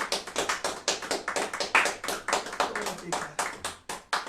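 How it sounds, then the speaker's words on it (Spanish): A church congregation claps in a fast, regular rhythm during worship, with crisp, fairly close hand claps repeating evenly throughout while voices carry faintly underneath. "Dale un aplauso fuerte"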